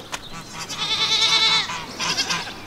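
A goat bleats on a farm, one long wavering cry followed by a shorter second call, loud and close, with faint farm background and no talking.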